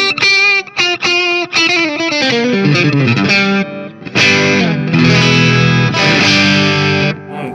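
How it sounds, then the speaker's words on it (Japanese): An electric guitar played through an Ovaltone-modified Tube Screamer TS9 overdrive pedal, giving a mildly driven, sustained tone with picked single notes and chords that ring out close and loud, with no voices. "TS9 の音、安心しますね。"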